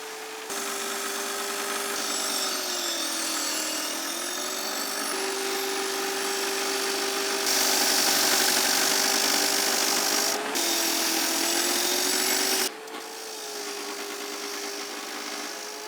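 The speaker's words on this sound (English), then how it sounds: "instead of using that grinder, I'm going to use this bench grinder and clean them all up" A bench grinder cleans up scrap rebar pieces, its motor whining at a steady pitch under a rough grinding hiss that swells and eases as the metal is pressed against the wheel over about sixteen seconds.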